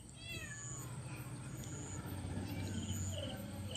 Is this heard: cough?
no